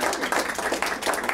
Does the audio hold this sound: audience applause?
yes